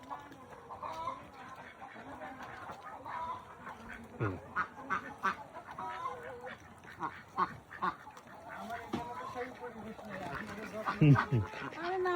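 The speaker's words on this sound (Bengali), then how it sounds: "অনেক হাঁস আছে মনে হয়।" Ducks quack on a farm alongside clucking chickens, repeated bursts of quacks rising over a noisy flock background, with people talking nearby.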